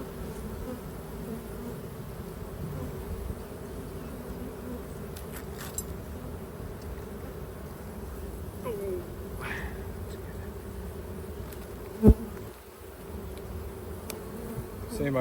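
A steady, close hum rises from honey bees crawling over a honey-covered hive frame during an inspection, with a few small clicks and a sharp knock near the end breaking the constant drone.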